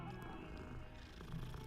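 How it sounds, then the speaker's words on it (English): A cat in the video game Hogwarts Legacy purrs in a low, continuous rumble, faint and steady, over an even background hum. "Oh, hey, a cat."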